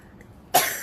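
A single short cough, close and fairly loud, after a moment of near silence.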